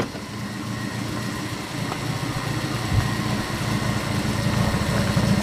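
A car engine idles steadily with a low rumble, heard up close at the exhaust, the revs rising slightly partway through, with no talking.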